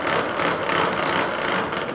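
A homemade mechanical seam tool, assembled for testing, turns with a continuous close ratcheting, gear-like clatter that stays loud and even throughout, with no voices.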